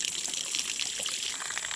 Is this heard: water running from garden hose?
yes